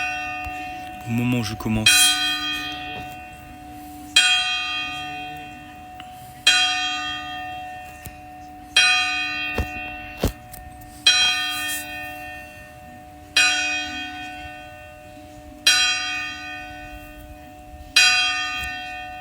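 A church bell rings in repeated strokes, each loud, ringing chime fading before the next, about every two seconds; a voice speaks briefly at the start.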